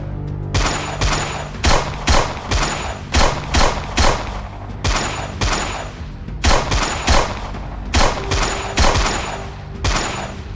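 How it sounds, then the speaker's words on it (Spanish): Rapid bursts of gunfire crack out in clusters, loud and close, with irregular pauses between volleys; no clear screams stand out. "la caverna se convirtió en un infierno de disparos, gritos y el choque de metal contra piedra."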